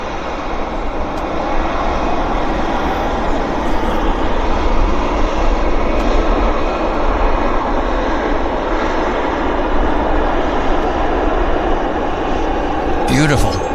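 Airliner taxiing at Vancouver airport, a loud steady jet engine roar that holds evenly throughout, heard close with a person talking over it.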